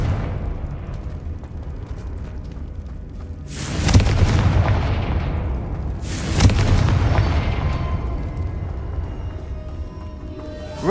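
Confringo spell explosions in the Hogwarts Legacy video game: two loud, booming blasts a few seconds apart, each bursting suddenly and rumbling away slowly, over a steady low background.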